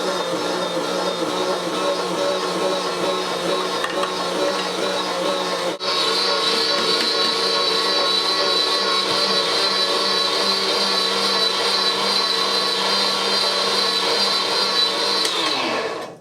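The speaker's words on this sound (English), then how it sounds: "So first of all, I'm going to process the meat to the grinder." An electric meat grinder processes lean beef chuck and lamb shoulder with belly for merguez sausage, giving a loud, steady whirring motor drone that runs nonstop for the whole stretch and then cuts off abruptly at the end.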